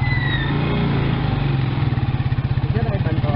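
A motorcycle engine chugs close by, a low rough idle that settles into a fast, even putt-putt pulse, with voices talking over it.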